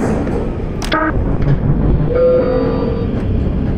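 A train rumbles along in the Black Mesa video game with a steady, loud rolling roar and faint metallic squeals and tones riding over it, and no voices.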